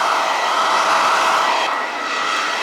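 Continuous loud whooshing airflow of a hair dryer blowing steadily while styling hair at a barber's, with a slight dip in intensity near the end.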